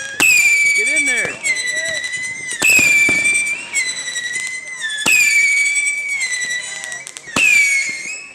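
Fourth of July fireworks burst loudly and repeatedly overhead, whistling rockets rising before sharp crackling explosions in an irregular barrage, with scattered crowd voices underneath.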